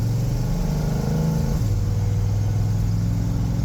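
Classic catering truck with a 351 Windsor V8 and automatic transmission, tow-started from a roll: a steady, loud low engine rumble with a slight pitch shift partway through, no voices.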